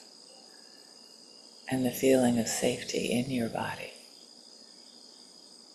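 Cicadas hum in a constant high, shimmering drone throughout, while a calm voice speaks over them for a couple of seconds in the middle.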